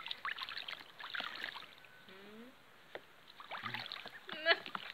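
Ducks bathing in two small pools, with water splashing and trickling in quiet bursts, while a person talks to them softly in the background.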